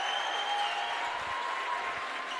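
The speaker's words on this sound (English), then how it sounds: "Gets a big round of applause from this Williamsville crowd." Williamsville home crowd at a high school boys basketball game breaks into a sustained, even round of applause late in the game, a dense wash of clapping with no voices on top.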